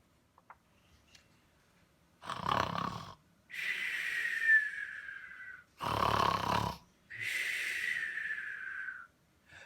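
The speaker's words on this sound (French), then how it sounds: "Le Père Noël ronfle." Santa Claus snores in two full cycles, each a rough, rasping inhale followed by a long whistling, wheezy exhale, loud and close in a quiet room.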